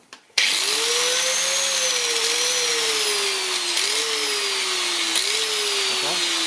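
A faulty angle grinder motor whines loudly and steadily close by, its pitch dipping and stuttering several times as it runs.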